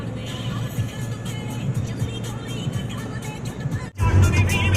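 Steady low engine rumble and road noise inside a moving 7-seater car on the way to Delhi, a continuous near drone with a brief dip near the end before it resumes louder.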